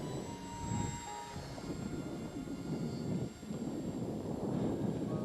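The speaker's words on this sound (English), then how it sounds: "I didn't know it was going to be this windy" Steady wind roars and buffets across the microphone at a flying club field, a broad continuous rumble with gusty swells and no voices.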